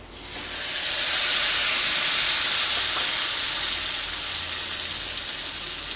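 A paste of ground turmeric, chilli powder and eight cashews, mixed with garlic and ginger, hits hot oil with a loud, bright sizzle and hiss. It steadies into continuous frying for a rohu kalia, with no talking.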